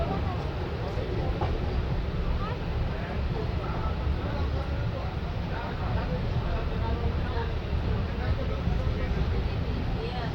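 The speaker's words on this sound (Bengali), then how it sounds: "কলকাতা থেকে ট্রেন ছেড়ে দিয়েছে এইমাত্র" The Kolkata–Radhikapur Express pulls away from Kolkata, a steady, dense rumble and rattle of the moving train that stays even and loud, with passengers' voices under it.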